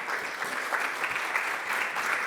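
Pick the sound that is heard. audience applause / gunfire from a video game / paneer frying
audience applause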